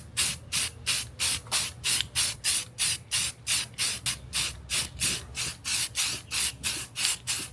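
Aerosol spray can priming a handmade art piece built from cheap $5 supplies, in about twenty short, even bursts of hissing spray at a steady rhythm, close and fairly loud with no talking.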